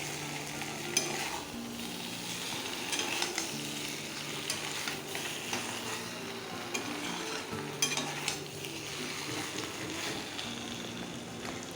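Fried chicken pieces and potatoes being stir-fried together in a pan, a steady sizzle with repeated scraping stir strokes throughout, close up and alone.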